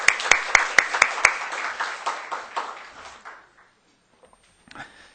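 Congregation at a church service applauding campus members, a few crisp loud claps up front over a burst of group applause that thins out and fades to near silence, followed by a couple of scattered late claps.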